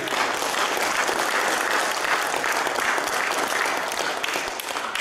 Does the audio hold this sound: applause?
yes